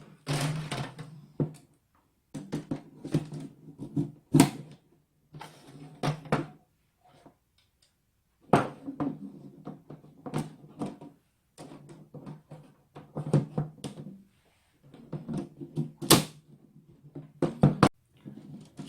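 Plastic parts of a Killbox automatic wasp trap are snapped and pressed into place, giving a string of sharp clicks and knocks that come in short bursts separated by quiet pauses.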